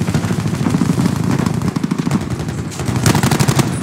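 Dense, continuous automatic gunfire from the video game Call of Duty 4, rattling loudly throughout with brief lulls and bursts of rapid shots.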